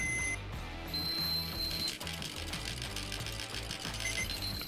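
Rapid mechanical rattling and whirring from a bootleg Digivice D2 handheld digital pet toy being shaken, with high electronic beeps layered over the busy clatter.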